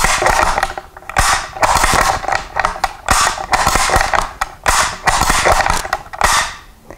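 A turn bolt rifle action, such as an Enfield, is cycled over and over, giving loud, close metallic clacks and scraping slides in quick repeated bursts with short pauses between strokes and no talking.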